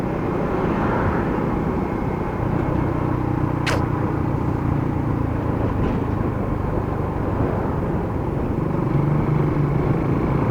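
An RFI 150 motorcycle engine on a test run, heard as a loud, continuous, steady engine drone and road rumble without pauses, with a brief higher whine partway through.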